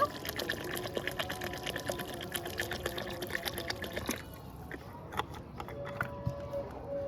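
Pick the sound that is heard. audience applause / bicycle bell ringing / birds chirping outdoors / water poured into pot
water poured into pot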